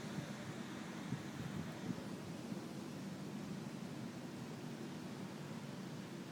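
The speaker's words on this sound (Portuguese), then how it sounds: "Agora o vento começou a chegar aqui." Steady low rumbling wind buffeting the microphone as a tornado passes near Birmingham, continuous and fairly faint with no distinct gusts or voices.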